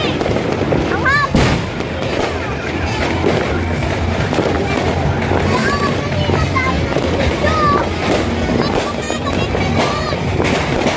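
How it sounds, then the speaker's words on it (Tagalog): New Year fireworks bursting behind a house, a steady loud crackle and boom with sharp pops and whistling streaks throughout, while people talk and call out excitedly over it. "may fireworks sa likod ng bahay namin"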